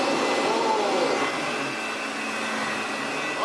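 A vintage Parry Light & Easy vacuum machine switched on and running, a loud steady motor roar with a faint whine that holds constant throughout.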